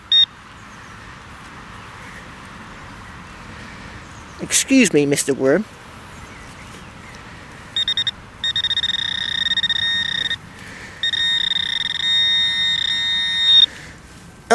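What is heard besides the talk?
metal detector beeping over buried lead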